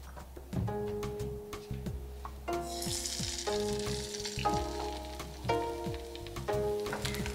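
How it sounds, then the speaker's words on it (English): Steady close sizzling of egg whites and yolk pan-frying in a non-stick pan, with bursts of crackle and a few light scraping and tapping sounds from a utensil. "pan frying the egg whites and the egg yolk in a separate non-stick pan"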